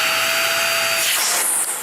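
A Sebo Felix upright vacuum cleaner runs loud and steady on carpet or bare floor, its motor whine holding constant and then shifting in pitch near the end, with no voices over it.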